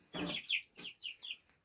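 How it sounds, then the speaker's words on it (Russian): Nearby Legbar and Jersey Giant chickens with their chicks give a few short, close clucks and chirps in a quick uneven series, with no talking. "Вот ее цыпоньки."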